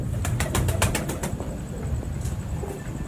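Pigeons of a prized breed kept by a Pindi fancier flap their wings at a rooftop loft in a quick run of about eight sharp wingbeats, close and clear, then fade. A low rumble of background noise runs underneath and no one speaks.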